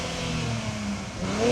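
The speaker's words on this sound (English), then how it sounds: "So go on, rev this up." Nissan 400Z engine revving, a steady loud mid-pitched drone that climbs slightly in pitch toward the end, heard close by with no talking.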